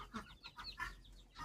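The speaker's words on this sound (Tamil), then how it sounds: "கருப்பு கோழியாக பார்த்து கொத்துறா" A black hen clucks repeatedly while pecking, a run of short, close, moderately loud clucks in uneven rhythm with no talk over them.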